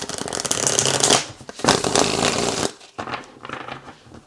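Tarot cards are shuffled by hand in quick bursts, crisp riffling and flapping close up, pausing briefly between bouts with no talk over them.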